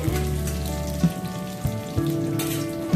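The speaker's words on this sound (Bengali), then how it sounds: "3-4টে কাঁচা লঙ্কা আমি চিড়ে রেখেছিলাম, তেলের মধ্যে দিয়ে দিলাম।" Slit green chillies sizzle and spit in hot oil for a Bengali lau ghanto, a steady close frying crackle with a few sharper pops, no talking.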